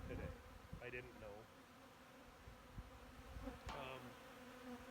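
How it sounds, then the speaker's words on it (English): Bees buzz steadily and close by, a continuous droning hum that fills the whole stretch, with a few faint outdoor sounds mixed in. "I didn't know if the bees would feed at all today"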